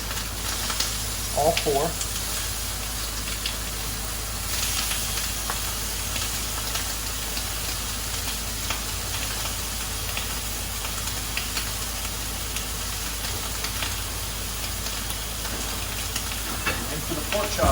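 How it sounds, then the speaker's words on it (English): Pork chops set into a hot pan give off a steady, even sizzle that carries on throughout, with a few brief clatters and a voice speaking a few words. "So this pan is hot now too, so we're going to go ahead and set these pork chops in here"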